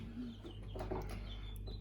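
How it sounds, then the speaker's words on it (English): A Buff Orpington chick on a farm gives a few faint, scattered peeps and soft clucks close by against a steady low background hum, with no talking. "So this is a Buff Orpington."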